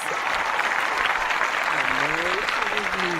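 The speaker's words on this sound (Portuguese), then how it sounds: "vocês recebam com muitas palmas a querida Cecília" A studio audience applauds to welcome Cecília Valadares onto a talk show, steady clapping throughout while a voice speaks faintly beneath it toward the end.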